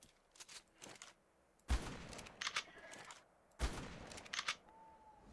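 Gunfire in the Ark Survival Evolved survival game on The Island map: two sharp, punchy shots about two seconds apart, each followed by crackling echo and short bursts of clatter, with no talk.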